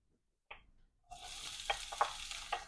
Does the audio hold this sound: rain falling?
no